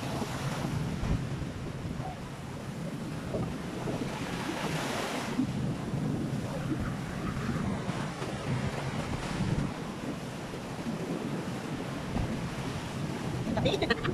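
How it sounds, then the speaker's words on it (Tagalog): Strong wind buffets the microphone at a beach in Cancun, with waves surging underneath in a constant loud roar. "Lakas ng hangin"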